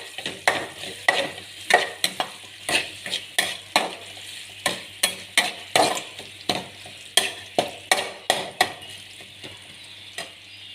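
Garlic fries in a pan while a utensil stirs it, with a crisp sizzle under regular scraping strokes that clack against the metal, near and rhythmic, with no voices.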